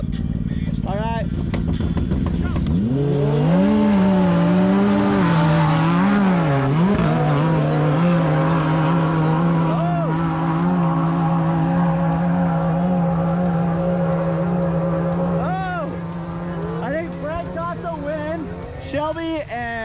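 Polaris Pro R side-by-side with a Pro EFI turbo drag racing on sand at Glamis, a loud engine revving and roaring in rising pitch sweeps, with whoops and voices near the end.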